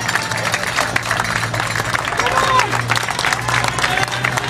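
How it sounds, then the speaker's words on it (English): A massive roadside crowd at the Huy climb of the Flèche Wallonne cycling race cheers and claps in a steady, dense roar, with a commentator talking over it. "Massive crowds, 10, 15 people deep, hanging off all the balconies of all the homes leading up to the top of the climb."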